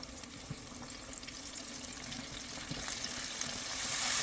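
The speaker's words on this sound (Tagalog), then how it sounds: "So, second batch na to, ipagpatuloy lang po ang pagprito ng ating chicken." A second batch of Filipino-style chicken fries in hot oil with a soft, constant sizzle and small pops, heard close and fairly quiet, gradually swelling louder toward the end with no voices over it.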